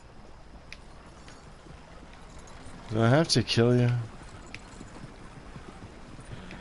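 Horse hooves clip-clop in Red Dead Redemption 2 video game play, a brief burst of hoofbeats and horse sounds in the middle of a steady background hiss, with someone speaking over it.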